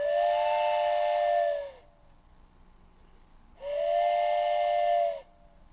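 A train passing through a Texas town sounds its steam-like whistle in two long sustained blasts of about one and a half seconds each, separated by a short quiet gap, loud and clear with no voices.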